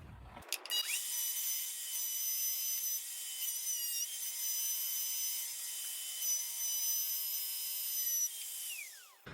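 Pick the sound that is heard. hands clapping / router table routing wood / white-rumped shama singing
router table routing wood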